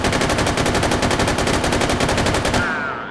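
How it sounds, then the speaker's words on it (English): Sustained automatic fire from a machine gun in the VR shooter H3VR, a rapid, even stream of loud close shots lasting about two and a half seconds before cutting off into a short ringing tail. "Click us off of safe, and let's fire some rounds"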